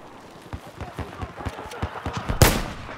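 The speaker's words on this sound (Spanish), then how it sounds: "Los disparos a lejanas distancias se sienten muy bien acá." Faint, distant gunshots from the video game Battlefield 4 pop in a quick irregular series, ending with one louder, closer crack.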